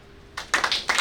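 Applause breaks out at a village development conference workshop after a moment of quiet, with a few bursts of clapping that swell and pause, fairly close.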